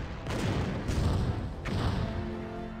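A starship is blown apart in the Star Trek Bridge Crew game, heavy booming explosions rolling in two loud bursts over nearly three seconds.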